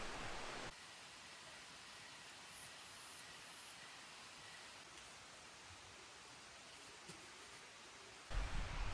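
A creek flows beside a camp on the Pacific Crest Trail in Washington, a steady broadband rush of water that holds constant and moderately faint throughout, with no voices.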